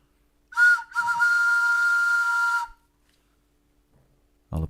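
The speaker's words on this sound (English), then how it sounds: "That was a very enthusiastic whistle today." A loud, close whistle rings out in two blasts, a short one and then a long, steady, high note lasting about two seconds, followed by silence and then a brief voice.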